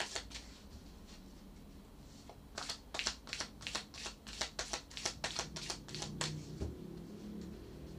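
Tarot cards are shuffled up close in a quiet room: a quick run of crisp riffling flutters and taps, clustered mostly in the second half, with no talking.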